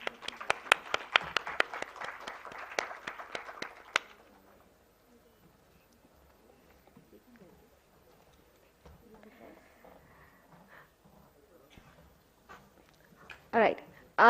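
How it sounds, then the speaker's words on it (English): A small conference audience claps, a burst of scattered applause for about four seconds that then stops, leaving quiet room noise and faint talk. "A huge round of applause."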